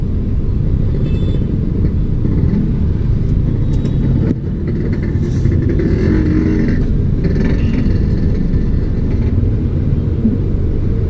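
Heavy stop-and-go traffic on Jalan Cempaka Putih, Jakarta: a loud, continuous roar of engines and motorbikes close by, with passing vehicles swelling briefly over the steady drone.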